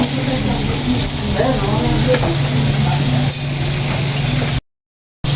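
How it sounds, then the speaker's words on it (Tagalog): Loud continuous sizzling of chicken frying in hot oil, with occasional stirring clinks, then the sound cuts off abruptly into silence. "at nagpiprito po si Tita Ada ng chicken."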